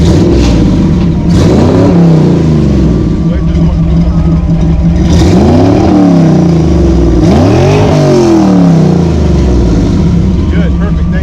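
Classic Toyota Celica engine fitted with eight-stack Weber carburetors and MSD ignition revving loudly up and down in repeated swells through a loud exhaust, with people talking over it.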